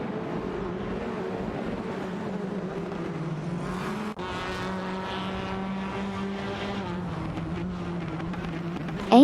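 Touring race cars, a Honda Civic and an Alfa Romeo Giulietta TCR, drone along in a video game race, engines holding steady rising and falling pitch as they run close together, loud and continuous with no talk.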